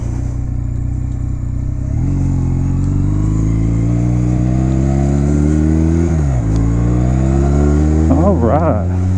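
A 2009 Honda Rebel 250 motorcycle is ridden and accelerates through the gears, its engine droning loud and close and rising in pitch with a brief drop at a shift, under steady wind noise.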